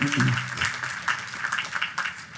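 Sustained applause from a commencement ceremony crowd, a dense steady clatter of clapping that runs through the whole moment, with a brief voice at the start.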